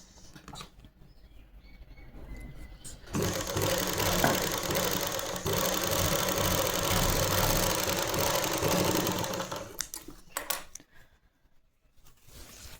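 A sewing machine stitching a folded belt seam, its motor starting after a few quiet seconds, running in a steady whirring burst for about seven seconds, then stopping amid small handling clicks.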